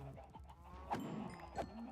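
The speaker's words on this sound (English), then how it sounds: "I just killed a chicken on accident." A chicken being killed in Minecraft, two short squawking hurt cries about half a second apart, fairly quiet against faint background tones.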